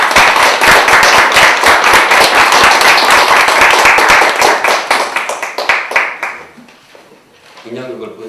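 A church congregation claps after a puppet play, a loud, fast, dense applause of many hands that holds steady for several seconds, then fades out as a voice begins speaking.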